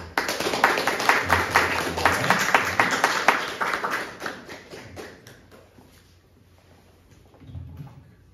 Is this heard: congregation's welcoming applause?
yes